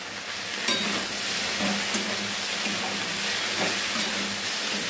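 Okra and potato curry cooks in a pan on the stove, giving a steady, even sizzle and hiss close by with a few faint clinks, and no one talking.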